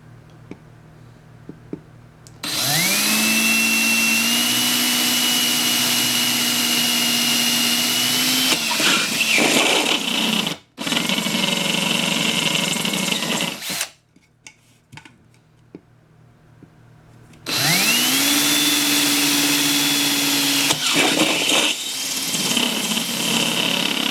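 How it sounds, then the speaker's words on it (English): A power drill boring holes into a bowl for building a 3D sphere whines loudly at a steady pitch in two long bursts, with a short pause and a quieter stretch between them and no talk. "Make sure you're drilling at the angle of the bowl that you're at."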